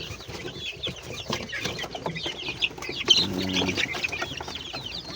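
Chickens cluck in a steady, busy chorus, with several birds calling close by and overlapping each other.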